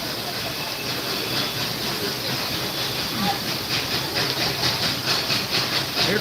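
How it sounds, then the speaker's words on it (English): A steam train at Dollywood in the Smoky Mountains of Tennessee approaches with a steady hiss of steam and a rising rhythmic chuffing and rattle, growing slightly louder, amid faint crowd background. "Here comes the train."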